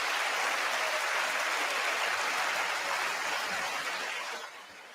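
Sustained applause fills the chamber during a presidential State of the Union address, a dense, steady roar of many hands clapping that tapers slightly at the end.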